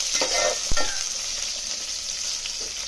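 Carrot and bean pieces are stirred in a sizzling frying pan for bagara rice, with a close steady hiss, a sharp spoon knock early on and scraping stirs throughout.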